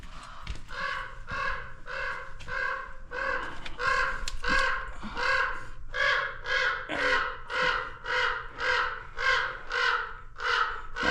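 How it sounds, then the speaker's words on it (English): Crows caw repeatedly and loudly, harsh calls coming in a fast, regular series, with a few overlapping voices nearby. "A lot of crows in here."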